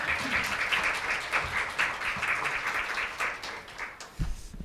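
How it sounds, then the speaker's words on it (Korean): Audience at a medical talk event applauds with steady, moderately loud clapping that continues throughout and begins to thin out near the end. "다들 큰 박수로 모셔보도록 하겠습니다."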